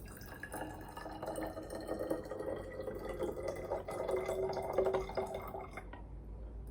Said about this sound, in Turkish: Şimdi burada suyumuz var. Kırmızı renkli gıda boyamızla birlikte dökelim.